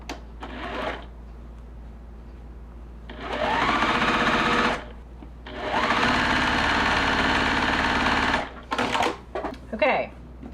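A sewing machine quilting a holiday pillow border runs in two sustained bursts of steady whirring stitching, bracketed by a voice talking before and after.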